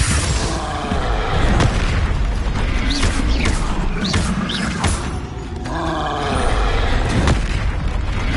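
Confringo blasting curses in a Hogwarts Legacy battle hit in heavy, continuous booming blasts, dense and loud, mixed with roaring creature noise and clattering impacts.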